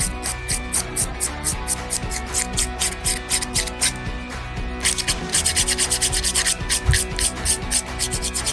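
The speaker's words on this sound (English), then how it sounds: "This is just a 100 file, and lightly start to remove the top coat." A 100-grit file scrapes gel top coat off a fingernail in quick, steady back-and-forth strokes. The rubbing is close and continuous, with a short pause midway and no talking.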